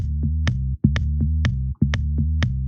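A synthesizer bassline locks with a steady four-on-the-floor kick drum in a house or techno groove. The loop is punchy and repeating, runs briefly, drops out for a moment and then returns, with no voices.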